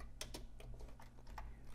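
Quiet keystrokes on a computer keyboard while writing Python code, an irregular run of soft clicks over a low steady hum, with no talking.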